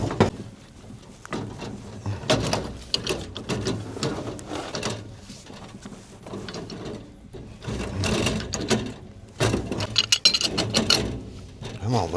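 Wrenches turning on a fitting while a two-stage furnace gas valve is replaced: close metallic clicking and ratcheting in irregular bursts, with a short lull midway and the work then picking up again.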